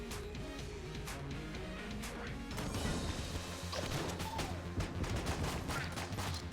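Gunfire rattles through an Enter the Gungeon run, with rapid bursts of sharp shots, crashes and impacts layered over game sounds, dense and fairly faint.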